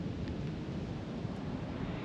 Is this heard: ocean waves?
yes